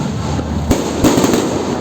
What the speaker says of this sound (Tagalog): napakalalakas po ng putok pala.